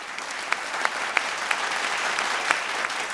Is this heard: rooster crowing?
no